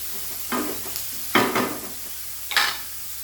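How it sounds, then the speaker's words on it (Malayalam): Sliced onions stirred in oil over a high flame in a pan, a steady sizzle broken by a few scraping stirs of a spatula, close and fairly loud with no talking. "ഹൈ ഫ്ലെയിമിൽ തന്നെ വെച്ച് വഴറ്റുക അപ്പോൾ പെട്ടെന്ന് മൂത്ത് കിട്ടുന്നതാണ്"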